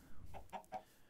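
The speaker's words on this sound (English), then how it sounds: "we got a bunch of chickens over here" Chickens in the Minecraft video game cluck in three short, quick calls, fairly faint, with a low rumble underneath and no talking.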